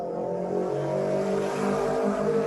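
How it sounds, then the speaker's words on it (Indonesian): A passing motorcycle during an outdoor discussion, a loud, steady engine drone with a rising whir that holds throughout without any talk over it. "maaf guys, suara motor."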